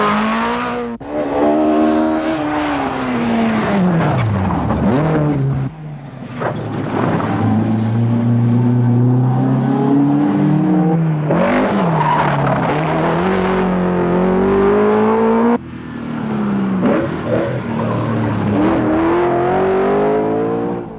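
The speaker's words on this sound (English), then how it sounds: "Vincent Bonner from the Sweet Dunlow is chasing him hard in the Ford Escort." Rally cars, including a Ford Escort, race at the 1983 Donegal International Rally, with loud close engines revving hard and rising and falling in pitch through repeated gear changes as they accelerate past.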